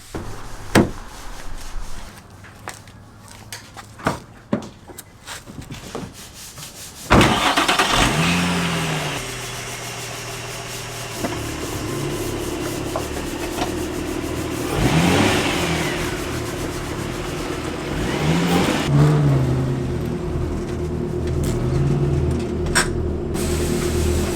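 A car engine starts after some faint clicks, then idles and revs a few times as the car is moved and turned around outdoors, the engine rising and falling nearby with no talking.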